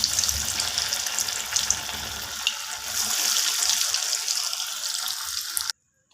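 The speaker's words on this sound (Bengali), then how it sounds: "তো এইভাবে আমি বাকি কাটলেটগুলোকেও ভেজে নেব।" Jackfruit cutlets fry in hot oil with a bright, bubbling sizzle that crackles steadily for several seconds before cutting off abruptly.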